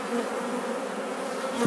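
Close, steady buzzing of many honeybees around the hive during a honey harvest, a continuous droning hum with one bee passing loudly near the end.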